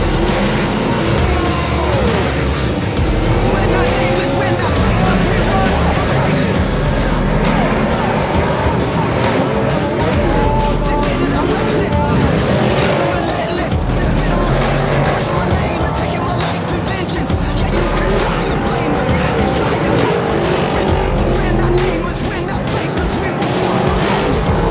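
Speedway race cars roar around a track at a New Zealand speedway meeting. Their loud engine noise is continuous and dense throughout, with voices faintly mixed into the din.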